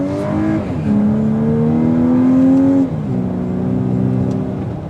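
A 2024 Volkswagen Atlas Cross Sport in sport mode accelerates, its engine droning and rising steadily, dipping at a gear change and then pulling on, heard from inside the cabin with no talking.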